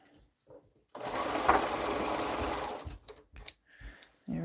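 A sewing machine stitches fabric for a quilt in one continuous quiet mechanical whir lasting about two seconds, followed by a few soft clicks and handling bumps.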